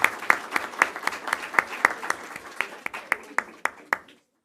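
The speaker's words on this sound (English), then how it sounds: "Let's give them another round of applause." Applause for students at a school district board of trustees meeting: a modest group claps in a steady, fairly even rhythm of distinct, close hand claps for about four seconds before it abruptly stops.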